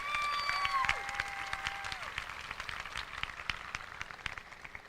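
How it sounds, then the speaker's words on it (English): Audience clapping at a Dalton High School 2022 graduation ceremony, a soft, dense patter of many hands spread through a large hall, steady and fairly distant, with a few faint tonal tones over it early on. "Please honor Ansley and Dr. Meadows with a round of applause"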